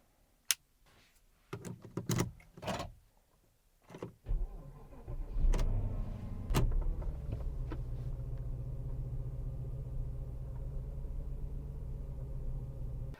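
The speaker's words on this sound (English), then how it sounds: "I'm going to start the car now." A Porsche Cayenne with a newly repaired battery cranks after a few clicks and thumps, then catches and settles into a steady low idle rumble, close and even.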